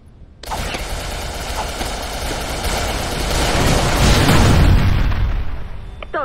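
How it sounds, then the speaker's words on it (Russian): Fragmentation grenade going off in the shooter game CrossFire (zombie mode), a loud sustained blast with rumbling debris that swells toward the end rather than a single sharp crack. "Граната пошла."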